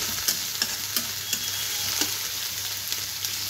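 Onions and peas fry in a pan with a steady close sizzle, broken by light regular scrapes and clinks as a spoon stirs them.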